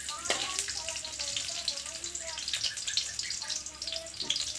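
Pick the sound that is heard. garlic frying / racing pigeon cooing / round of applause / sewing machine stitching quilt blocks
garlic frying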